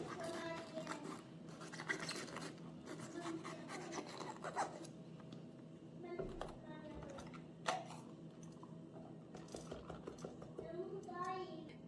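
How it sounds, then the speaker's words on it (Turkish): Seeds being scraped and rubbed out of peppers prepared for stuffed oven-baked biber dolması, a steady close-up rasping and scratching with small clicks, continuous under faint background sounds. "dolmalarımın çekirdeklerini temizleyerek tarifime başlıyorum"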